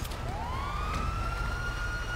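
A police car siren in GTA Online rises into a steady wail over a low rumbling engine, loud and close, with no talking.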